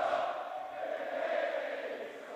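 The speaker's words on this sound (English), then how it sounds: "the crowd literally rising to their feet here" A wrestling arena crowd at a TNA event in the Walker Dome roars in a sustained, even wash of cheering, filling the space without breaks.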